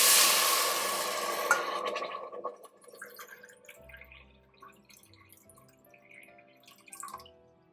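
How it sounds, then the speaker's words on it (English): Water pours noisily into a pot holding quinoa and salt, a loud rushing stream at first that thins out into softer drips and trickles. "take 1 cup quinoa, add 2 cups water and a teaspoon of salt"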